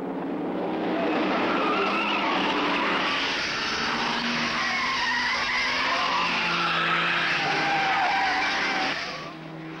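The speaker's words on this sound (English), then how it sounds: "Unleashing its newly developed power, Moffat accelerates the GTHO to something around 140 miles per hour down Conrod." A Ford Falcon XY GTHO Phase 3 race car with a 5.8-litre 351 Cleveland naturally aspirated V8 runs flat out down Conrod Straight at around 140 mph, its engine a loud, sustained roar that swells and eases slightly as it passes.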